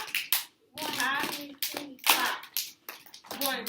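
Second-grade children clap hands in a pat-clap rhythm game, several sharp group claps in a steady counted pattern, mixed with close speaking voices between the beats.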